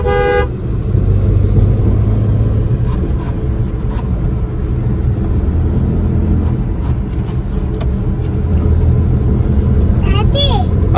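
Busy road traffic with car engines rumbling steadily throughout and a quick burst of horn honking near the end, loud and continuous with voices nearby.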